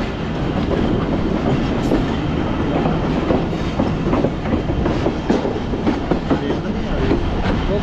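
Subak Raftar Express railcar running on tracks between Wazirabad and Rawalpindi, heard from onboard as a loud steady roar of wheels with rhythmic clickety-clack over rail joints, continuous throughout.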